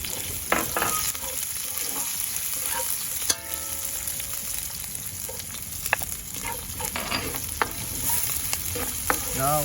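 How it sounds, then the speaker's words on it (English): Garlic and onion stir-frying in a pan, with a steady crackling sizzle throughout and scattered sharp clicks and scrapes from stirring, fairly quiet and close. "stir fry the garlic."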